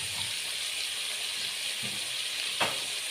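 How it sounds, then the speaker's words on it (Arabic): Chicken liver and gizzards frying together in a pan, giving a soft steady sizzle at moderate distance, broken by a couple of brief stirring knocks. "نحمرهم مع بعض كويس جدا بقى"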